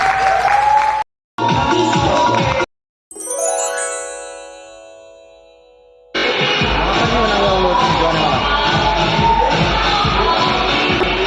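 Audience clapping at a company's second anniversary celebration, loud applause broken by short silences and a chiming jingle, then sustained clapping and crowd noise.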